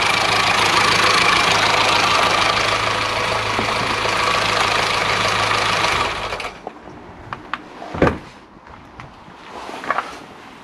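A car engine idles steadily at operating temperature with an even, close mechanical hum. It cuts off after about six seconds, leaving quiet clicks and faint knocks.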